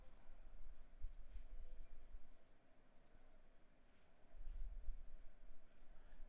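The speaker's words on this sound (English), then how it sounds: "Now we just need to click, and this should be pretty straightforward." Mouse clicks while tracing shapes in Illustrator, a series of faint, sharp single clicks spaced roughly a second apart over a low, steady background hum.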